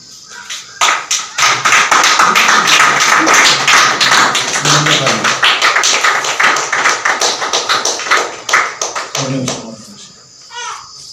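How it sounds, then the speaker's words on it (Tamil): A church congregation claps their hands together for about ten seconds, a loud, dense, continuous burst of applause that thins out near the end, with a voice heard faintly in the mix. "எல்லாரும் கரங்களை தட்டுவோம்."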